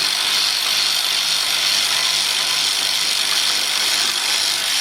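A power tool runs continuously and loudly at close range, with a steady, unbroken whir, while a bolt is removed from the rear brake caliper of a 2007-2017 Lexus LS460.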